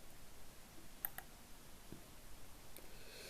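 A single soft mouse click selects the calendar button in Microsoft Teams, a quiet, crisp tick against near-silence, followed by a couple of fainter clicks.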